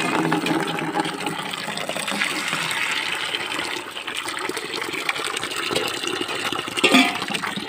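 Mixed cold and hot water gushes steadily into a container for a child's bath on a rooftop, a continuous loud rushing pour with no break.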